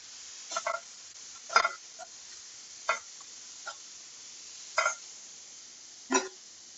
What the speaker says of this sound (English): then we put this one in and then fry, fry, fry.